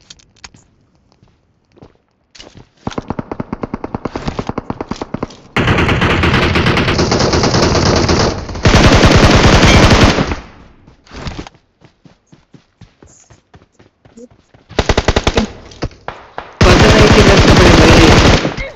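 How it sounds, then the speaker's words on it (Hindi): DP machine gun fire from the mobile shooter BGMI rattles out in long, very loud automatic bursts, several sustained volleys separated by short gaps and scattered single shots and footsteps. "सामने एक बंदा डीपी से निकलता है, गंदा तरीका से फायर करता है"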